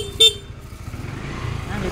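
A vehicle horn gives one short toot near the start, then a motor runs low underneath, on a street corner where goods are being sold.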